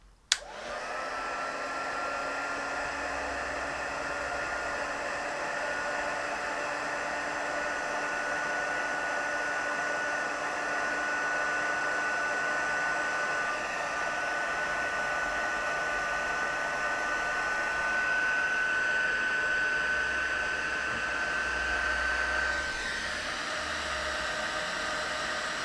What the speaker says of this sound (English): I'm just gonna use the heat tool. So cover your ears